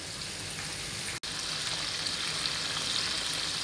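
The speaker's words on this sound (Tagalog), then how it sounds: "Habang nagpiprito nga tayo ng manok" Steady, dense sizzling of chicken wings frying in hot oil, continuous and close, with a brief dropout partway through.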